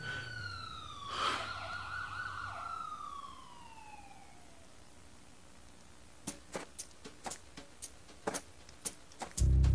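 A police siren wails with sweeping rising and falling tones, fairly loud and close, then fades away into a run of sharp clicks and knocks near the end.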